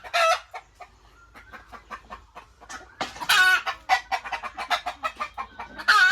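Local hens sit laying eggs on a small poultry farm, some birds suffering chronic respiratory disease (a cold), clucking in a busy stream of short, sharp calls that grow denser and louder toward the end, close by without any talking.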